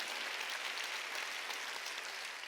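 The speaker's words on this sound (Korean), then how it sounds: "깨달은 사람만 박수쳐" Dense applause from a congregation at a Korean Wednesday church service, continuous and steady throughout the short stretch with no speech.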